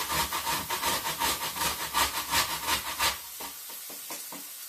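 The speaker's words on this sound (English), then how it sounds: "if you just grate it," Frozen ginger root grated by hand on a kitchen grater, a quick run of regular rasping strokes, close and fairly loud, that then slows into a few lighter, spaced scrapes.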